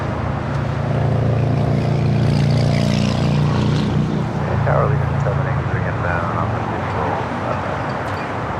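An Iberia airliner arriving from Madrid comes in to land on the north side of LAX with a low, steady engine drone, while someone talks over it.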